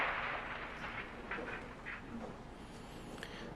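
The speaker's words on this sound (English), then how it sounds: "That's the sound of the plane coming apart." A jet airliner breaks apart in a high-speed dive, heard as a continuous roaring, rushing noise with scattered cracks and thumps and a thin high whine, fairly faint and unbroken.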